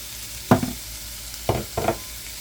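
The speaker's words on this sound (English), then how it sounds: "When the pan is hot and the oil is hot, take and slide those onions and that little bit of garlic right into the pan." Onions and garlic sliding into hot olive oil set off a steady sizzle, with three distinct stirring scrapes spaced over a couple of seconds, no voices.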